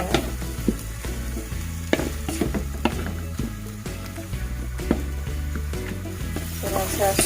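Chicken for semur sautéing and being stirred in a pan, a steady sizzle with repeated scraping strokes, set against persistent low tonal background sound.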